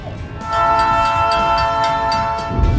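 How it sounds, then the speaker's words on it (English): The Skunk Train rolls along the rails through California's redwoods while its horn sounds a long, loud, sustained blast close by. "We're going on a train ride"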